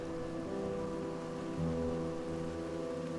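Steady rain pours on surfaces outside an old, dusty abandoned house during a storm, a dense continuous hiss with a faint low rumble swelling partway through, no voices.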